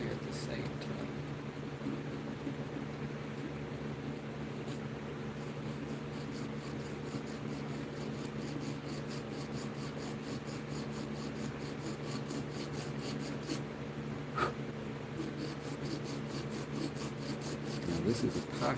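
Hand sanding an epoxy coating on wood: a steady, close, continuous rasping and rubbing that holds for the whole stretch, with a faint background hum.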